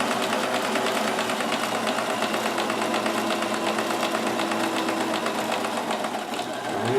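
A Kenmore 158.1914 sewing machine stitches at a steady fast pace, its even mechanical whirr and rapid needle clatter running close and continuous without pause.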